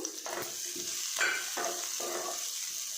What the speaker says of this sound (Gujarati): મરચાં લસણ અને આદુને આપણે થોડીકવાર માટે તેલમાં સાતરવા દઈશું